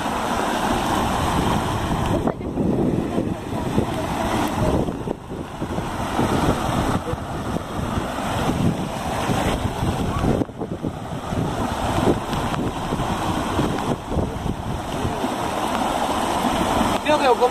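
Heavy rain pours over rural Pernambuco, a dense, steady roar of falling water that fills the scene continuously, with people talking now and then beneath it.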